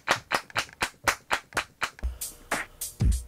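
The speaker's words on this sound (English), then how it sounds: "Now clap your hands." A single person claps hands in a steady quick rhythm, about a dozen sharp close claps, bright and crisp, with a few heavier thumps near the end and no talk.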